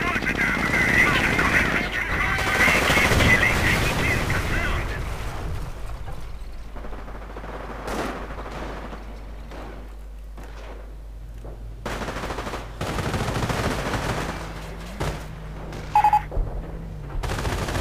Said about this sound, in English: the Hummel's firing a barrage on the church, trying to take out this Ranger squad and this Rifleman squad